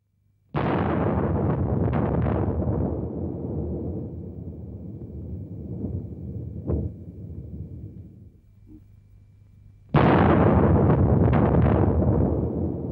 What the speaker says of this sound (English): The explosion was the equivalent of more than 50 million tons of TNT, more than all the explosives used in World War II.